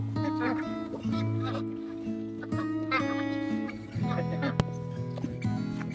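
Geese and ducks honk and quack continuously nearby at a farm, a busy flock of poultry calling over one another.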